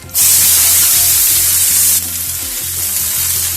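Onions with cumin and chilies fry over a medium flame in a pan, a loud, dense sizzle that starts abruptly and holds steady, easing slightly partway through as stirring continues.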